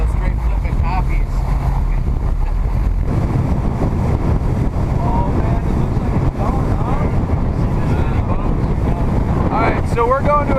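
A boat heads out toward a surf spot, its engine drone mixed with heavy wind roaring across the microphone, loud and continuous, with voices talking over it.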